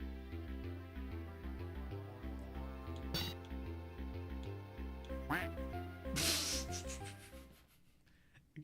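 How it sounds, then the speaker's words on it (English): Duck quack effects from the Game Boy Advance homebrew game Quack ring out a few times over steady looping chiptune music, fairly loud and up close. "Good quack sound"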